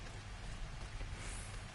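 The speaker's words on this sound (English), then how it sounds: "Oh, listen to that rain, it's so nice." Soft, continuous rain hisses in Final Fantasy XIV's weather system, a quiet even patter with a low rumble underneath and no talking.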